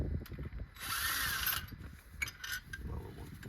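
A ratchet spins and clicks as bolts are loosened on a Toyota 3RZ engine in a 1997 Tacoma. A loud whirring burst is followed by several quicker, lighter ratcheting clicks up close.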